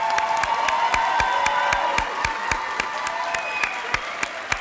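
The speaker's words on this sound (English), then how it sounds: "One more round of applause." An audience applauds outstanding teachers at a school district ceremony, a loud sustained roomful of clapping with scattered sharp claps standing out and faint cheering mixed in.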